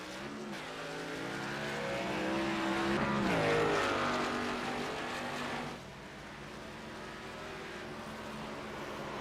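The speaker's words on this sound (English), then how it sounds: "You hear these cars really motoring going through here." Race cars in an AOLL TNT Series race roar fast through a hairpin corner, a loud engine sweep that rises, peaks and fades as the cars pass, followed by a steady engine drone.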